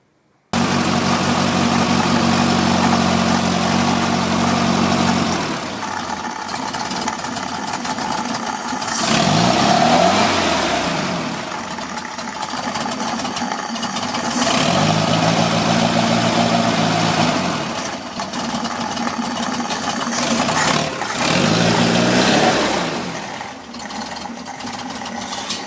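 An air-cooled VW engine on a standard carburettor, in a right-hand-drive car in Australia, cranks and starts, then idles loudly and steadily with a few blips of revving along the way.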